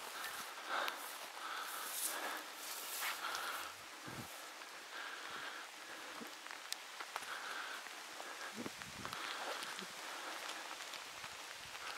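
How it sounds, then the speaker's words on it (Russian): Rain falls in a forest during a hazel grouse hunt, a soft, steady patter on leaves and ground, with a few faint rustles and steps underneath. "Дождик, правда, зарядил."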